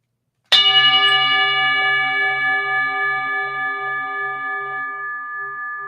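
A single bell struck once, giving a loud, sharp ring that hangs on as a long, slowly fading tone with a gentle wavering pulse.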